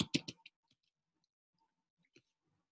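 Computer keyboard being typed on, a quick close burst of four or five crisp key clicks followed by a near-silent pause and one more soft click.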